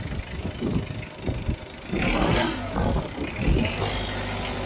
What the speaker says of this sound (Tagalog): may konti siyang palya. Ayan oh, pansinin mo. Oh. Pati yung makina mo, oh.